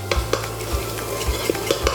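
Spices and dried red chili flakes toast in a pan for a sweet potato and chickpea dahl, giving a steady dry sizzle. Regular scraping taps from stirring run through it, with no talking.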